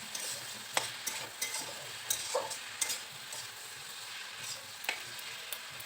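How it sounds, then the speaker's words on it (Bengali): A spoon stirs vegetable curry with small mourala fish in a pan, each push bringing a soft scrape over a low, steady sizzle, in an irregular rhythm at close range with no talking. "ঢাকা খুলে আবারও সবজিটাকে নেড়ে চেড়ে দেব।"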